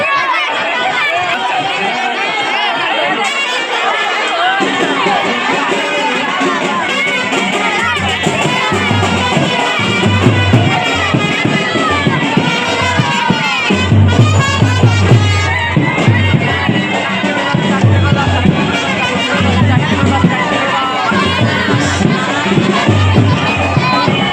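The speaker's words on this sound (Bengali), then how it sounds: "কিন্তু দেখো কত ভিড়" A dense crowd fills the Batkulla Rath Yatra chariot festival fair on a rainy day, with continuous overlapping chatter, shouts and nearby voices forming a loud, busy hubbub throughout.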